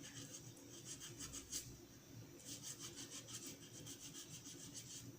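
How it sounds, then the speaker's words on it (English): The rough side of a kitchen sponge scrubs a glass jar during upcycling, giving faint, rhythmic scratchy rubbing strokes in short bursts with a brief pause midway, and no talking. "usually I just use the hard side of the sponge"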